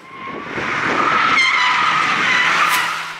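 A race car drifting with its tyres skidding, a loud sustained screech that swells over the first half second and holds steady, close by with no talk.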